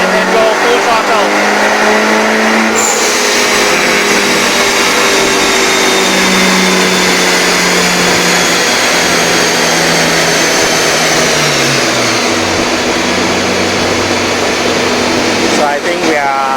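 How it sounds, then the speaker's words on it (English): A Mitsubishi Airtrek turbo engine, being retuned after a rebuild, is driven at full throttle with a loud, sustained drone whose pitch climbs steadily and then drops near the end, with talk over it. "Now tuning normal driving load, partial throttle, and then go full throttle."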